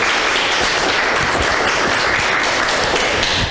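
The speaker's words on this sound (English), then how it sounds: "So that's the time for the final applause." A conference audience applauds at the close of a talk, dense, steady clapping filling the whole stretch at close range with no voices over it.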